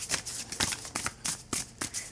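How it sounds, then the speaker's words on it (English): A smooth tarot card deck shuffled up close by hand, a quick run of about eight crisp papery riffling bursts in an uneven rhythm, with no talking. "One of the things I love about this deck is it's such an easy shuffle."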